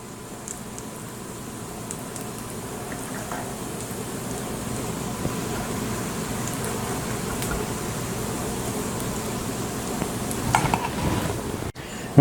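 Spoonfuls of bison corn cake batter dropped into hot oil in a pan make a steady, rain-like sizzle that grows slightly over time, with a few utensil clinks near the end and no talk.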